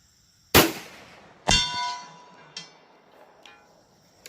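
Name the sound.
bullet hitting steel target at 400 yards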